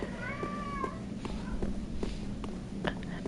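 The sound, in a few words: cat meowing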